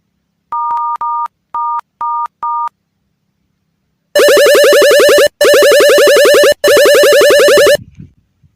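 Telephone keypad dialing tones: five short, evenly spaced beeps, followed by three long, loud buzzing ring-like bursts separated by brief gaps, clear and close with no voices.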